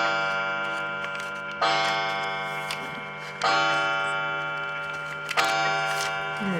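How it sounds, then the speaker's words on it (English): A clock chimes three times, each strike ringing out loud with a long, fading tone, while faint steady ticking continues underneath. "my clock is going to chime"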